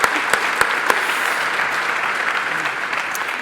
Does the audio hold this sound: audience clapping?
yes